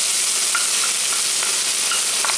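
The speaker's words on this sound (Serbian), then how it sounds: "I sad ja u ovom tiganju gdje su se pržile kobasice dodat ću jednu glavicu sitno iseckanog luka." Finely chopped onion frying in a pan where sausages were just cooked, a steady close sizzle of hot fat with occasional stirring scrapes and pops, no speech.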